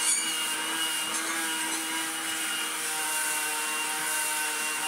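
An old Vax Gator handheld vacuum cleaner runs continuously with a steady high whirring drone and airy hiss, close by and unchanging throughout.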